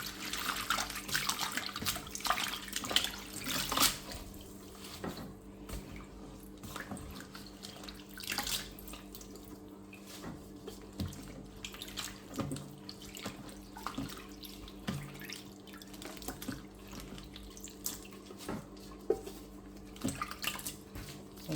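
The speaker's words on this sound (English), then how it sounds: "Make sure you wash it very well so that all the stones and sand will come off it." Tap water runs steadily into a sink while vegetables for a stew are washed clean of stones and sand, with a continuous splashing hiss, occasional clatters and drips, fairly close and without talk.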